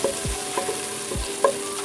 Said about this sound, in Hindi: उसमें लहसुन ऐड किया है मैंने। तो हल्का सा फ्राई करेंगे